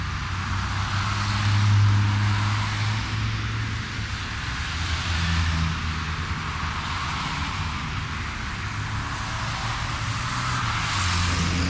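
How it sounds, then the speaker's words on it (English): White ute turning left and then U-turning on a road in a busy freight precinct, heard as a steady vehicle engine and roadway rumble, with heavier freight traffic passing at moderate distance. "Watch the white ute complete a left-hand turn followed by a U-turn a short distance down the road to Q-jump."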